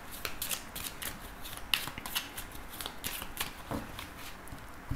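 A deck of oracle cards is cut and shuffled close by, a quiet run of rapid flicking and riffling snaps with small taps, no talk.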